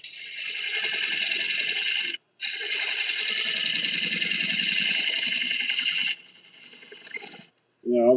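A wood lathe spins a cypress and oak burl bowl while a carbide tool cuts, producing a steady close mechanical whir and scraping that stops briefly, then drops off near the end as someone talks.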